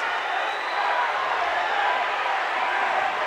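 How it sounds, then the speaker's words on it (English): Basketball crowd in a high school girls' gym game jeering and booing the players, a steady diffuse roar of many voices at moderate distance with no break. "now the crowd's starting to give them a hard time along here"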